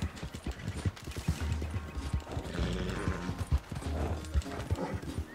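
Hoofbeats of a galloping horse in the Red Dead Redemption 2 video game, a steady rapid clip-clop with an occasional whinny, fairly loud and continuous under game sounds and music.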